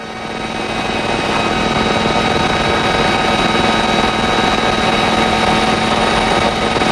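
A Boeing-Sikorsky RAH-66 Comanche helicopter with twin 1,400 horsepower engines, a loud steady turbine whine and rotor drone that rises in the first second and then holds constant.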